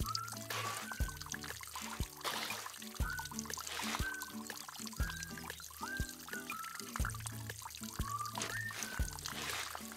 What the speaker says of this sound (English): It's raining! I can't believe it! Water! Lots of water!